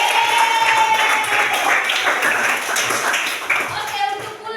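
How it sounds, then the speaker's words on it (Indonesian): A group of people clap their hands together during a school lesson, producing loud, steady clapping that goes on for several seconds, with voices heard faintly underneath. "Tepuk tangan dulu kita semua."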